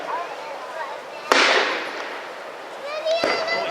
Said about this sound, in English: that was shot from the battery on the island there